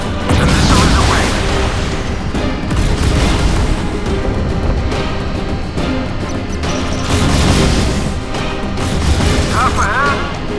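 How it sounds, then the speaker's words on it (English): Warship missile launches and blasts in the naval combat game Modern Warships, playing a USS Hurricane (PC-3) patrol craft: a loud, continuous roar of booms and crashing explosions with gunfire-like bursts, dense and sustained throughout. "The missile is away."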